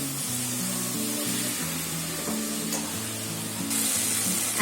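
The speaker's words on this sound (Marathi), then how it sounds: "टोमॅटो आता बघा चांगला फ्राय झालाय. तेल सोडलाय." Tomatoes frying in oil in a pan give off a continuous soft sizzle, heard alongside a steady melodic background tune.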